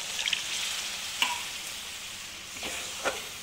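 Chicken gravy sizzling and frying in a pan as water is poured in, a steady hiss with a few sharper spits and crackles, close and moderately loud, with no talking.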